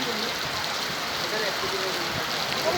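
Heavy rain pours down in Gourdighi as a dense, constant hiss of falling water, loud and close.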